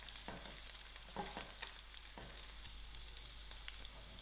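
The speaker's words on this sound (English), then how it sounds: "I'm going to add in my mustard seed to the fry. Allow the mustard seed to pop." Mustard seeds popping and crackling in hot oil as they fry for a loki (calabash) and dried shrimp dish, a steady sizzle broken by scattered sharp pops, fairly faint and close, with no talking.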